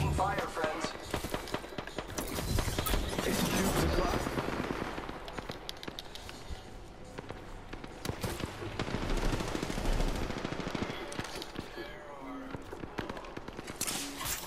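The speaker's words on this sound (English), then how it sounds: "I am taking fire, friends." Dense automatic gunfire fills an Apex Legends firefight, with rapid bursts and shots layered throughout and loud close bursts alternating with more distant fire, while voices talk over the action.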